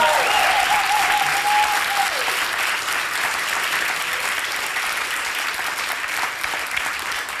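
A concert audience claps steadily throughout, sustained and fairly loud, with a brief whistle-like tone early on and a voice briefly over the start.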